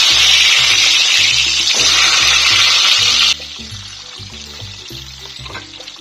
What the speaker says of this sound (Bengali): এবার এই এক একটি চিকেন সসেজ কড়াইতে দিয়ে দিলাম